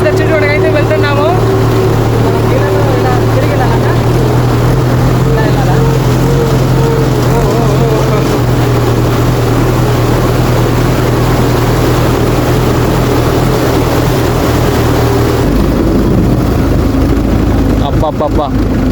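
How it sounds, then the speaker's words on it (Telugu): A tractor engine roars loudly and steadily as the tractor crosses the Godavari river near Bhadradri Kurrodu, with water churning throughout and people talking over the constant drone. "అబ్బా ఇంజన్ మొత్తం ఆడిపోతుంది కదా."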